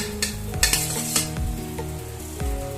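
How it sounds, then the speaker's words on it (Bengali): Fried eggs dropped into boiling egg curry gravy, a short burst of bubbling sizzle with a few soft thuds and spoon clatter, close and loud, no voices. "এবার আমি এর মধ্যে এক এক করে ভেজে রাখা ডিমগুলো দিয়ে দেব"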